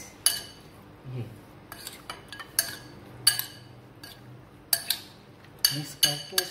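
Chicken being mixed with crushed black pepper and salt in a dish, with sharp metallic clinks and taps of a utensil against the bowl coming in irregular bursts under a faint voice.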